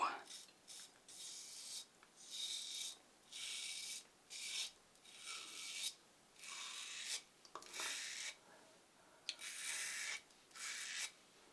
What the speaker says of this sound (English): Yates titanium winning razor with a feather stainless blade